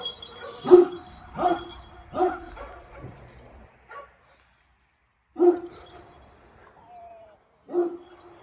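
A dog barks in a series of sharp, separate woofs with pauses between them, fairly near, with a short whine in the middle and no talk over it.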